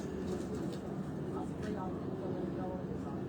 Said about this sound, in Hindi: उनके घर का ये छत वाली ब्रीड का ये कबूतर आपको दिखाया जा रहा है।